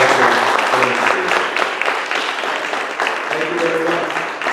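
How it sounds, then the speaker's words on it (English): A community meeting audience applauds Captain Canfield, with a sustained round of fairly loud, dense clapping that tapers slightly near the end while a few voices murmur underneath. "would you give a nice round of applause for Captain Canfield?"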